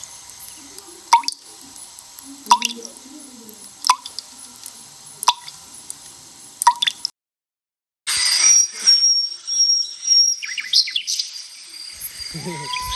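Water falls drop by drop from a pipe at a temple: five sharp, evenly spaced drips roughly every 1.4 seconds over quiet ambience, followed by a brief silence and then busier outdoor noise with birdlike chirps.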